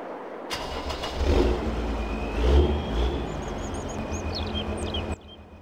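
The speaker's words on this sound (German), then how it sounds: "Ich finde, dieser Traktor klingt richtig gut." A tractor engine starts and revs in Farming Simulator 22, a low rumbling drone that swells twice before settling, with faint chirping birds in the background.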